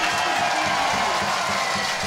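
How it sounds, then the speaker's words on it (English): Crowd cheering at a canoe slalom finals in Liptovsky, a loud, steady wash of voices and applause from a large outdoor audience, continuous throughout. "Well, the crowd are happy."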